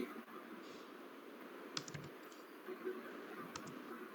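A computer keyboard being typed on in an office, a few faint scattered key clicks in short bursts over a quiet hum.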